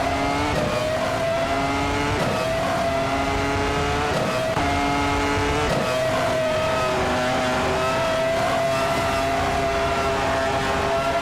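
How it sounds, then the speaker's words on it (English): Several 1996 McLaren MP411 Formula One race cars in a racing game at the Croft Retro circuit, engines screaming at high revs with steady whining tones that rise and fall through gear changes, loud and continuous throughout. "the race has just kicked off at Croft Retro, and our star driver My Styler 21 is leading the pack in a 1996 McLaren MP411"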